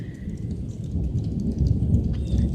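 Steady rain falling outdoors near a goat pen, with low rumbling thunder underneath. The dense, even patter holds throughout and swells slightly toward the end.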